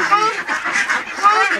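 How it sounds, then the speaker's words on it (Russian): A greylag goose calls in a bird park, harsh honking notes rising and falling close by, with someone talking over and around the calls. "Это серый гусь."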